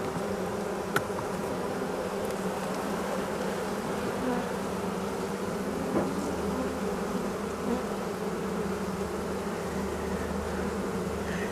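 Honey bees buzz around a hive entrance during goldenrod season, a dense steady drone of many insects close by with occasional faint clicks, no voices.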